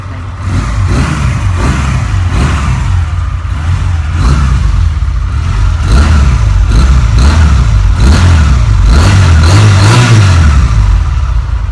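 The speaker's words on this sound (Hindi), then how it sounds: "अब आपने माशाल्लाह तीनों स्टार्ट करके दिखाई, साउंड तो सबकी बहुत ज़्यादा मज़ेदार हैं, ऊपर से डबल सलेंसर हैं" A powerful motorcycle engine fitted with a double silencer exhaust runs loud and close, revving up and down in repeated surges over a deep, throaty idle with no talking.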